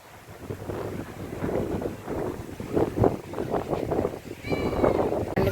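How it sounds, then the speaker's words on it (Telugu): Steady wind rushes and buffets through a village in cool weather, with low rumbling gusts and muffled voices talking beneath it. "చల్లగా ఉంది మంచి గాలి మంచి వాతావరణం"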